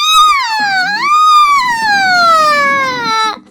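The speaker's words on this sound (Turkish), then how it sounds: "ambulans gibi ses çıkardı. O, itfaiye gibi" A loud, close siren-like wail rises, dips and then glides steadily downward for about three seconds in the Mr. Meat 2 video game, sounding like an ambulance or fire engine, with a faint murmur beneath it.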